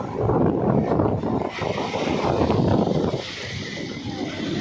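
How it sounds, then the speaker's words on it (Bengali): Sea waves washing in at Udaipur beach near Digha, a steady broadband roar of surf mixed with gusty wind buffeting the microphone, loud and continuous with a slight dip midway. "কত সুন্দর ঢেউ হচ্ছে দেখো"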